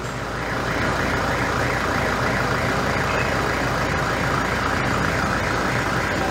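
A car engine held at a rev of about 1500 rpm during a turbo actuator check makes a loud, steady drone with a slow wavering pulse, close by.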